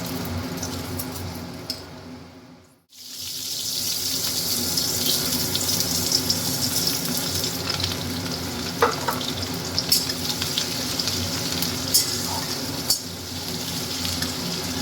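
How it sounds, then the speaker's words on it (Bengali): Bay leaf and onion frying in oil with dried red chilli for an egg and cauliflower curry, a steady close sizzle running throughout with a brief break and occasional stirring clicks. "পেঁয়াজটা লাল লাল করে ভাজা হয়ে গেছে"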